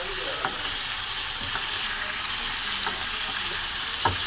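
Chicken fries with onion in a pan for a lauki chicken dish, a steady, close sizzle broken by a few sharp scraping stirs of a spoon against the pan.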